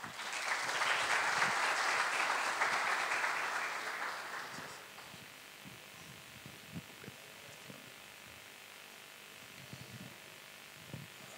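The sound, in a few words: seminar audience applause welcoming speaker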